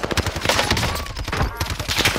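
Owen Gun submachine gun firing in a first-person shooter, rapid bursts of automatic fire crackling steadily throughout at close range amid other battlefield gunfire.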